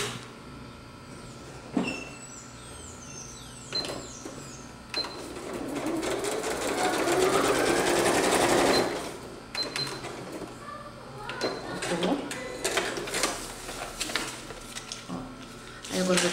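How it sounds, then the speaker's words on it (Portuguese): A sewing machine stitches fabric onto a paper foundation quilt block, a steady whirring run of a few seconds amid handling clicks and clatter, with someone speaking Portuguese around it. "pra você não costurar ele torto ou costurar ele embolado."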